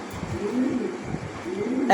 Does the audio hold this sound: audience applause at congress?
no